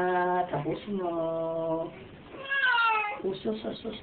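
A cat meows repeatedly in close, drawn-out tonal cries, several calls in a row with one rising, wavering yowl, mixed with a person speaking nearby.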